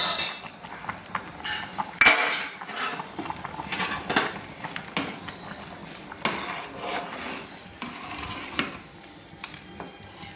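Payesh, a rice pudding of Badshabhog rice with ground nuts, is stirred in a pot with a spoon, making repeated close scraping and clinking strokes against the metal for about ten seconds, with one sharper knock early on and no voices.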